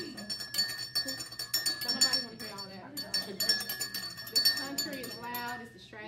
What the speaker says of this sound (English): You stir it in the center of the cup.